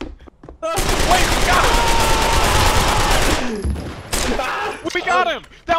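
Dense burst of automatic gunfire from a Pavlov VR multiplayer match, loud and sustained for a few seconds before cutting off, followed by scattered game sounds.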